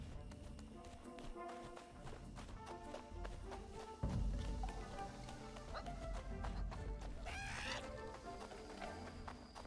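Chickens cluck in the video game Pine, with soft tapping footsteps and a game music bed; a louder burst of bird calls rises near the end, with no talk.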